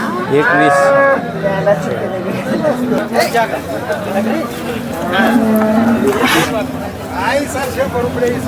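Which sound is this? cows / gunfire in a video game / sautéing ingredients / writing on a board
cows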